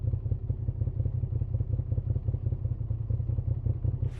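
A 2025 Moto Guzzi V7 Sport motorcycle engine idles at standstill, a steady, loud, low throbbing pulse that runs evenly throughout with no voices.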